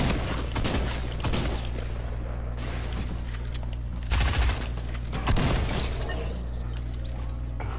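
Minigun fire in Fortnite, a dense continuous rattle of gunfire running throughout with brief louder bursts around the middle and later, close and loud, with no talking.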